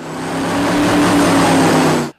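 A powerful airboat engine roars steadily, swelling a little in loudness with a droning tone, then stops sharply.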